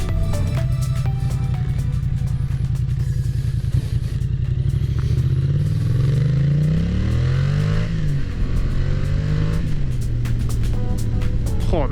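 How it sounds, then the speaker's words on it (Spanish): Motorcycle engine fitted with an aftermarket exhaust, revving loud and close with rising and falling pitch through several throttle blips, a deep throaty rumble filling the whole stretch with no talking. "cómo suena con este escape"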